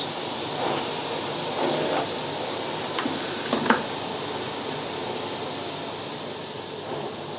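A Philips FC9750 PowerPro Max vacuum cleaner runs on its lowest setting, giving a steady, soft airy hiss that holds throughout with a few faint clicks and knocks.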